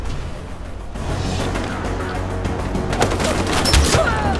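Rapid gunfire in the video game Far Cry 4 on Xbox One, a dense continuous fusillade of shots with booms mixed in, loud and close throughout.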